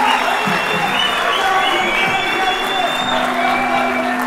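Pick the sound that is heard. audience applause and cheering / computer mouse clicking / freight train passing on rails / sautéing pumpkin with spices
audience applause and cheering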